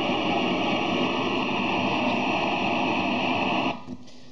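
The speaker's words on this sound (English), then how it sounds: "I also have a white noise source." White noise source on a DIY modular analog synth, a steady static hiss like radio static holding evenly, then cutting off abruptly near the end.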